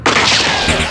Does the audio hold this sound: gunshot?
yes